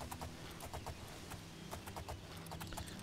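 Horse hooves clip-clopping during a ride in the video game Oblivion, a quick steady run of close hoofbeats over a low ambient drone, faint overall and without talk.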